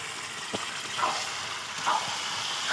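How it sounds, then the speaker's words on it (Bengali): Washed chicken pieces dropped into a hot pan, giving a steady broadband sizzle with a few brief bursts of hissing as pieces hit the oil, close and moderately loud. "এবার দেখো ধুয়ে রাখা চিকেনটা দিয়ে দিলাম"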